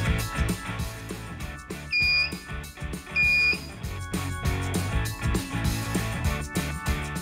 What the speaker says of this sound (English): we can then connect the AA battery pack and power up our metal detector.